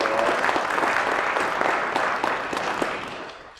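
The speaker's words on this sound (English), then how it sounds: "Give him a round of applause." An audience at a 2013 opening ceremony applauds a legislative dignitary, a full room of many hands clapping continuously and fairly loud, tapering slightly toward the end, with no speech over it.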